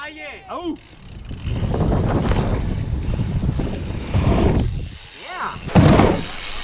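Strong wind buffets a helmet-mounted camera on a sailboat, roaring steadily across the whole stretch with gusts that swell near the end, while a voice shouts briefly at the start and again around the final gust.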